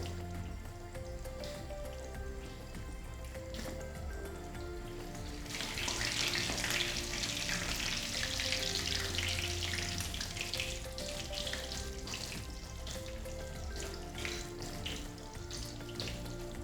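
Lamb chops sizzle and crackle in a hot pan, a steady hiss that swells louder midway through, with soft background music and no voices.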